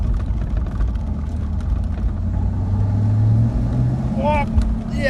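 A 1994 Ford Mustang GT SN95 engine drones steadily, swelling louder for a moment midway as the accelerator is pressed to keep it from stalling, with a brief voice near the end.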